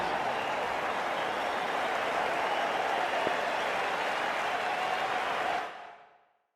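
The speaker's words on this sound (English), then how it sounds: "they'll leave the ground to the applause from the crowd" Crowd in a cricket video game applauds steadily and loudly as batters leave the ground, a dense continuous clapping wash that fades out at the end, with no talk.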